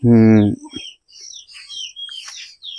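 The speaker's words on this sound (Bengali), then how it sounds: "অনেক পাখি কিচিরমিচির করে ডাকছে" Several birds chirp around nests near a home, with a short burst of voice at the start followed by scattered high, bright tweets that continue at moderate level.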